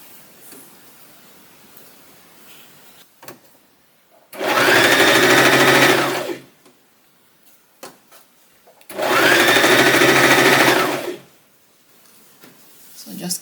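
Sewing machine stitching an XL scrunchie, running in two steady bursts of about two seconds each, loud and close, separated by quiet pauses with faint handling noises.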